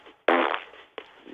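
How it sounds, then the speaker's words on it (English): A fart rips out loud and close in a long buzzing burst, followed by a shorter second squeak, with no speech. "hold on, I gotta fart"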